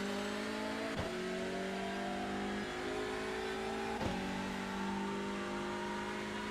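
A Hyundai Elantra TCR accelerates out of a corner at Barber in the iRacing sim, its engine note climbing steadily, with quick upshifts punctuating a continuous, fairly loud drone.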